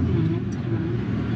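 A Cat wheel loader's engine drones steadily at a close, constant low rumble as the machine backs out of a stockpile, with no one talking.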